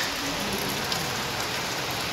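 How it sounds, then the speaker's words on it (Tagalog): Heavy rain pours steadily onto surfaces, a dense, close hiss of drops drumming without pause, with no voices over it. "Grabe ang lakas ng ulan."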